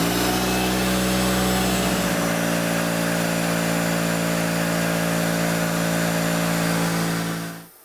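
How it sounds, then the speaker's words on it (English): An air compressor runs steadily and loudly on its own, its motor drone holding at a constant pitch as pressure builds, then cutting off near the end. "Now the compressor stops once it gets filled to whatever the rating is for it"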